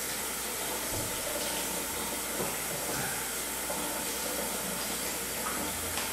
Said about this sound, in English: We're going to wash this off, cold water, and get all of that seasoning off of it